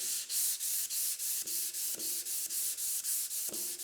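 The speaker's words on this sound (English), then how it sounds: "I have a drywall sander, it's flat. It's going to touch the highs of the metal." A flat drywall sander is worked over the metal loader arm of a Case 1840 skid steer in quick, rhythmic back-and-forth strokes, a close, steady scratchy rasp repeating about four times per second.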